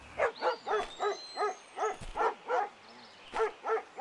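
Stray dogs bark in the zombie survival game Into the Dead 2, a string of evenly spaced, moderately close barks with a brief pause near the middle before the barking resumes.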